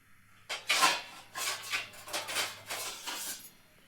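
A cooking pot of chicken curry being covered with its lid, heard as a run of close metallic clinks and scrapes that come in several quick bursts, with no talking.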